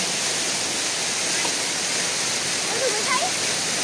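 Waterfall at Havelock in the Andamans, a steady broad rushing roar of falling water that runs unbroken throughout, with faint voices briefly audible beneath it.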